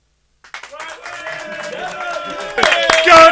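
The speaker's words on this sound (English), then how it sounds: "It's quite nice to get a clap from you guys." Studio audience clapping during a Chelsea fan talk show, starting sparse and growing into fuller applause, with people talking and cheering over it and a louder burst near the end.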